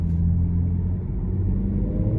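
A 2018 Audi S5 Prestige turbo engine pulling hard in dynamic mode, heard from inside the cabin as a deep, steady low rumble with a faint hum and no talking.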